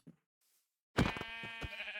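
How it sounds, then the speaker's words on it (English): A sheep bleats in a video game, one wavering, bleating call right after a brief click and near-silence, close and moderately loud with no speech over it. "I need to kill the sheep."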